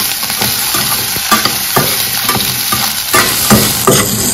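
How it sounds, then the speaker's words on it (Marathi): Solan pieces fry in a little oil in a pan, giving a steady close sizzle with occasional stirring scrapes throughout. "आता थोडंसं तेल किंचित टाकलं आणि आता आपला सोलन टाकलेलं आहे, ते पण फ्राय करून घ्यायचं."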